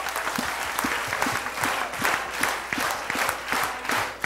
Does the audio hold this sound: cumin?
no